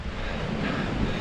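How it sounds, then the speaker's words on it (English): Bitter wind gusts across a misty mountain summit, a steady low roar of buffeting air on the microphone, with no other sounds. "That wind is bitter."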